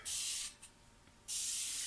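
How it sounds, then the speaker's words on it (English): Two bursts from a spray bottle misting homemade Star of David soap, each a loud, bright hiss lasting about half a second, separated by a quiet gap with a faint click. "Spray it one more time on there."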